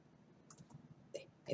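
Soft keystrokes on a computer keyboard while pressing the F4 key, a few light clicks close by but faint, with a quiet room behind.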